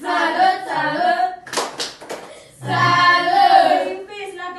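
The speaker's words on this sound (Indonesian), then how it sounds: "Tepuk salut untuk Yufi." Early-grade primary school pupils in an Indonesian classroom chant a rhythmic clapping cheer, voices rising and falling in sung phrases around a short burst of hand claps in the middle.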